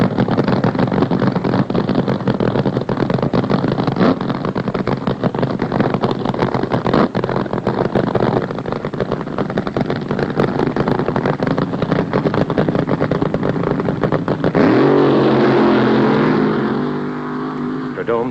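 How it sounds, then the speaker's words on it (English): A drag racing car roars through a burnout at a drag strip, a dense, loud and continuous engine blast that holds steady, then surges into a higher, shifting rev near the end. "The burnout. That's what the crowd loves. Noise and tire smoke and the fire from the engine exhaust."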